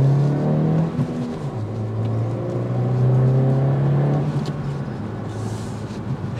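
A 2023 Honda Civic Si with a manual gearbox accelerating hard, engine rising in pitch through the revs, dropping briefly at a gear change, then climbing again, loud and close.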